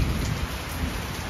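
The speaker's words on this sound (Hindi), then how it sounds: "मतलब इतनी गंदी बारिश लगी है," Heavy monsoon rain pours steadily and loudly in Himachal, a dense continuous roar with no pauses.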